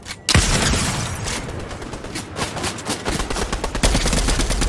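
Dense, rapid gunfire from a Fortnite battle royale match, with repeated overlapping shots and bursts rattling almost continuously, loud and close with a few heavier booming impacts.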